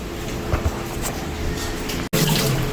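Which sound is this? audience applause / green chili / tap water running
tap water running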